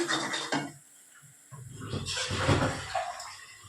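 Spice masala frying and being stirred in a pan, with a few metal scrapes and clatters of utensil against cookware, short bursts separated by a quieter gap, moderately close.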